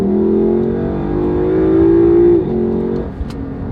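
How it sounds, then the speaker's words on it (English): Factory Lexus LC500 V8 accelerating, a smooth, refined engine tone climbing steadily in pitch, then dropping at a shift and easing off; moderately loud, with no voices. "this car is still quiet. I know it sounds good for factory V8. It sounds really refined, like a really refined V8, but it's still quiet."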